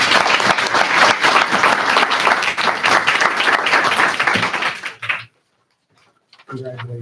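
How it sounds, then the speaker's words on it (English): Room of people at a regular school board meeting breaks into sustained applause for a newly sworn-in member, dense clapping that stops abruptly, followed by a short silence before a voice resumes. "let's have a round of applause"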